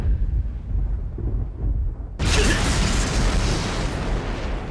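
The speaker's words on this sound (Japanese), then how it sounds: "雷の呼吸、一の型。" Thunder Breathing first form attack effect from Demon Slayer: quiet low rumble, then a sudden loud crack that opens into a sustained, roaring thunderous burst of noise.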